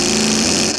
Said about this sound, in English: The relay is sort of acting like an electromechanical speaker in a way.